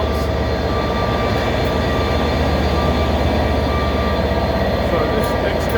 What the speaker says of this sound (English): So this excursion train is made up of the British Pullman cars, on its way from London Victoria out to Dover Priory.